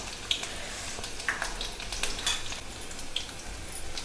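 Garlic cloves frying in oil over lowered heat for a green-chili matki bhaji, a steady close sizzle with small pops and crackles throughout, with no speech.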